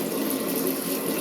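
Hand-washing tap in a train washroom running hard, a steady close gushing hiss of water with no pause.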